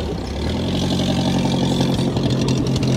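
A car engine runs steadily at idle close by, with an even low rumble and no speech through the short stretch.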